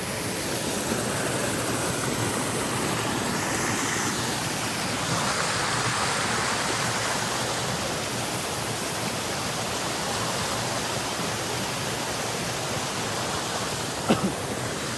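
A waterfall with only moderately strong flow sends up a steady, even rush of falling water that carries on unbroken throughout, fairly close and with no voices.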